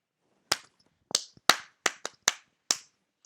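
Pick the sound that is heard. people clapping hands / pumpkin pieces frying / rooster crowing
people clapping hands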